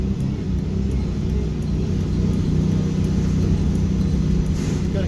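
A converted bus engine labouring up a mountain pass in low gear, a loud continuous rumble and drone held steady, close and unbroken, with no voices.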